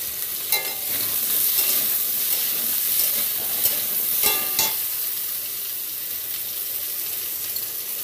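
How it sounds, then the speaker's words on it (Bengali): Potatoes fry in hot oil tempered with black cumin, bay leaf, dried chilli and salt, giving a close, bright sizzle with a few sharp clattering stirs early on and no talking. "কালো জিরা ফোড়ন দিয়েছি, তেজপাতা আর শুকনো লঙ্কা দিয়েছি, নুন দিয়ে দিলাম, একটু আলুটা ভেজে নেব"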